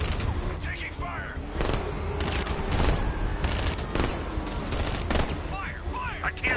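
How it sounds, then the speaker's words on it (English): Bursts of gunfire during a vehicle chase in Batman: Arkham Knight, rapid volleys cracking several times over mechanical engine noise and creaks, with voices shouting between shots. "Taking fire!"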